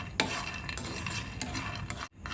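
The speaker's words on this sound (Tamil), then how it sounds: "நான் சொன்ன மாதிரி இப்போ இந்த பாதாம் பிஸ்தா எல்லாத்தையுமே ட்ரை ரோஸ்ட் பண்ணி எடுத்திருக்கேன்" Almonds and pistachios being dry-roasted in a pan, stirred with a continuous close scraping and rattling, with a sharp clack partway through and a brief drop near the end.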